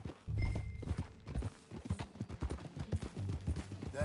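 Steady clip-clop of horse hooves at a walking pace in Red Dead Redemption 2, close and fairly loud, with low rumbling in the background.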